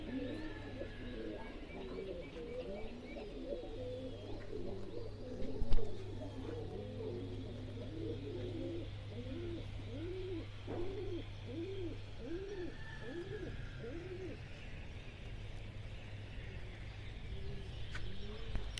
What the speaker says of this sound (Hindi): दोस्तों आप देख सकते हैं कि हरीफ को छोड़ के हमारे कबूतर जा रहे हैं इस टाइम